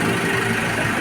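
Car engine at idle during an oil-change checkup, heard as a brief, steady, close rumble with no voices.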